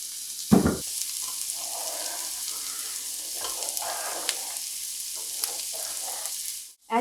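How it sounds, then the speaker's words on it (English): A flour mixture with salt and pepper for vegan mozzarella is stirred in a pan, giving a soft steady sizzle with scraping strokes and an initial clunk, close and unaccompanied by talk. "stirring this mixture very well so that it doesn't stick to the pan"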